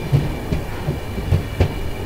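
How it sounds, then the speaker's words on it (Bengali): The Howrah–Dibrugarh Kamrup Express runs at night between Nabadwip Dham and Katwa Junction, its wheels knocking in steady rail clacks over a continuous low rumble heard from inside the train. "আমাদের ট্রেন নবদ্বীপ ধাম থেকে ছাড়লো।"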